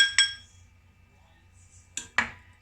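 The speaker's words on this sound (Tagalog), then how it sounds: "I-mix ko na yung chinap ko na garlic" A metal utensil clinks against a pan while chopped garlic is mixed into melted butter for baked scallops: one sharp clink early, then two close clinks near the end, with quiet between.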